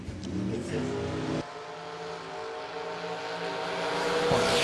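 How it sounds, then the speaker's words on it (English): A Chevrolet Camaro drag racing car at a drag strip event, its engine roaring loudly and steadily with a sharp drop partway through, then building again toward the end. "Chris Morris in the Camaro there"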